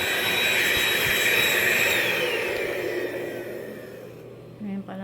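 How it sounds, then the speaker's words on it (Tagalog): Household vacuum cleaner running steadily and loud in a home during a move, its whine slowly fading as it eases off, with a brief thump near the end. "Ngayon pala ang gamit nila na pang vacuum nila."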